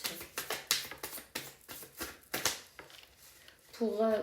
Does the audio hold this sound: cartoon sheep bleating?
no